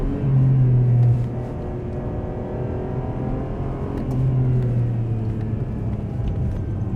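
Ferrari 575M engine in sport mode blipping through rev-matched downshifts, a loud, close, humming drone with two sharp rises in pitch, heard from inside the car.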